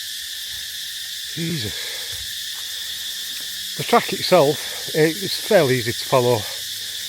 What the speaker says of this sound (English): I presume it's crickets. It is absolutely deafening.